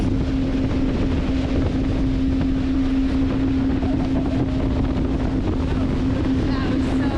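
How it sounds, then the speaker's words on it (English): Constant jet ski engine drone with a steady hum, mixed with rushing wind and water noise on a lake, close and loud throughout. "This is actually on a jet ski, not our boat"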